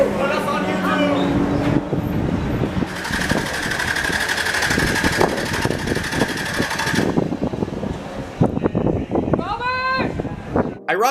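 A Ford Mustang race car engine idles and revs with a steady mechanical drone at a Lemons endurance race at Thunderhill, while people talk nearby and a voice briefly rises over it near the end.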